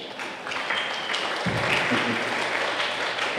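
An audience at a talk breaks into applause, a steady wash of clapping that thickens after a moment and continues throughout.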